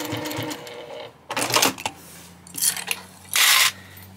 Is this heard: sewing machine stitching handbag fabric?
yes